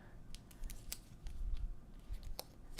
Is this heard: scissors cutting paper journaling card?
yes